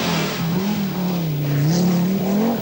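A turbocharged Audi Quattro rally car engine drones loud and close on the 1982 Mintex Rally, its pitch wavering as it revs and steadies.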